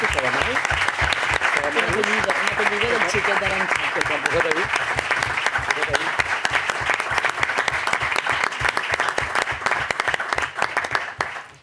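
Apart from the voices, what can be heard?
council chamber audience applauding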